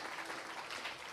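A church congregation applauds during a sermon, producing a steady, fairly soft wash of many hands clapping together without a break.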